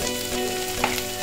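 Vegetables sizzle steadily in a hot pan during a homemade stir-fry, a continuous close frying hiss with a brief stir-like clatter near the end and no voices.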